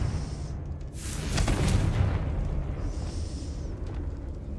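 A Confringo blasting spell goes off in Hogwarts Legacy as a burst of fiery roar that swells around the one-second mark and rumbles on for a few seconds, loud and close, over a low game soundtrack.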